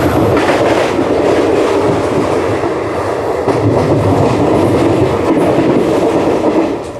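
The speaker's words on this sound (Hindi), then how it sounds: "ये ट्रेनवा तो धाए धाए करके पीट के निकल गया रे।" Train passing close on a double-line electrified railway near Merta Road Junction, a loud continuous rumble with rhythmic wheel clatter, sustained throughout without fading.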